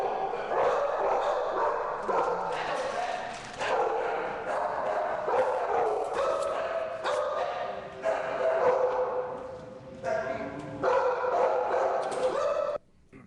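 Barking, yipping and whimpering from an aggressive alpha dog held in a pound's rabid-dog area, close and fairly loud in repeated bursts with short pauses, as a person speaks briefly amid the noise.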